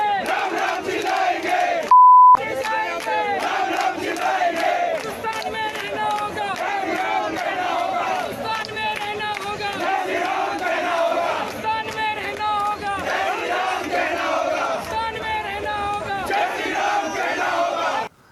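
A large crowd at a political rally chants slogans in loud, rhythmic unison, voices massed and continuous throughout, with a brief electronic beep near the start.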